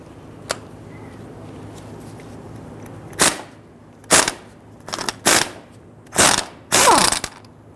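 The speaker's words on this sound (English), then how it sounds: "18mm box wrench on the bottom, and we have a pair of locking pliers on the top to grab the top" A box wrench works loose the 18mm nut on a rear shock absorber of a 2011-2017 Nissan Quest, giving a string of short metallic ratcheting clicks in quick uneven bursts after a quiet start.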